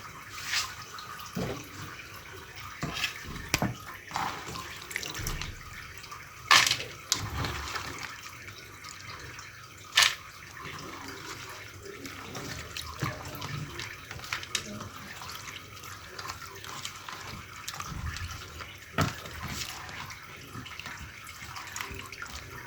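Small omena fish are washed by hand in a basin of water, with scattered splashes, sloshing and occasional sharper clatters of handling, fairly quiet and intermittent, with faint speech at times.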